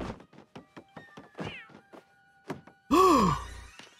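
A cartoonish cat meow from a Toad character in Paper Mario: The Origami King rings out loud and drawn-out near the end, after a run of short clicky game blips and chirps, with no talking.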